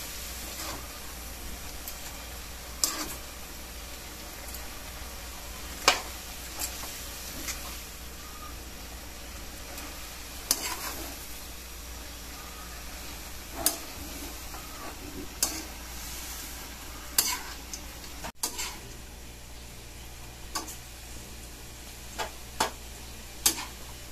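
Pancit canton noodles being stirred in a frying pan, with a soft steady sizzle and scattered light scraping and tapping of the utensil against the pan, close by and fairly quiet, with no voices.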